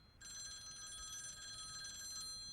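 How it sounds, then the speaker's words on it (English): In a cartoon, a telephone bell rings steadily and continuously for a couple of seconds, a faint electronic trill with no talk over it. "Telephone!"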